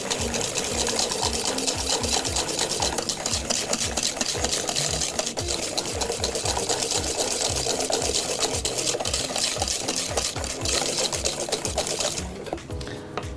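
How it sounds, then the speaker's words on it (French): Egg yolks and sugar are whisked by machine in a bowl, giving a continuous, dense rattling whir with a fast regular beat that runs steadily for several seconds before easing at the end. "c'est de fouetter les jaunes d'œuf et le sucre"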